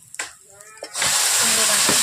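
A spice paste fries in a pan with a sharp, steady sizzle that flares up partway through after a few soft clinks and scrapes, loud and close.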